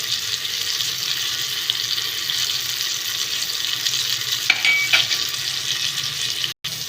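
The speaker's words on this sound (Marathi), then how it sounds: "तर मी ह्याच्यात तांबडं तिखट आणि हळद मीठ घालते. मिक्स करते." Potatoes are stirred in a hot pan with red chili powder, turmeric and salt, giving a steady close sizzle with scraping and stirring noises, plus a brief pause near the end.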